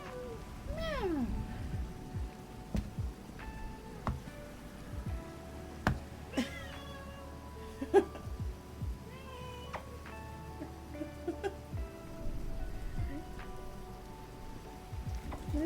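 A house cat meows repeatedly in short, drawn-out calls spread across the clip, heard close up over a faint steady rain-like background hiss.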